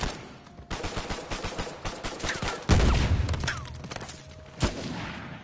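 Sniper and rifle gunfire in Uncharted 4 multiplayer: a rapid fusillade of close, sharp shots across the whole span, with a heavier boom near the middle and another loud crack toward the end.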